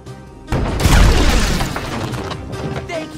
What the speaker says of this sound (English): Use the action button to fire the cannon!